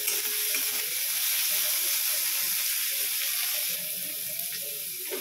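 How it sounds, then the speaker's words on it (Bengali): Green chilli and chopped tomato hit onions frying in a pan for an okra and potato dish, giving a loud, steady close-up sizzle and hiss that softens slightly partway through, with no voices. "এবার আমরা এর মধ্যে কাঁচা লঙ্কাটা দিয়ে দেবো, আর সাথেই দিয়ে দেবো টমেটো কুচিটা"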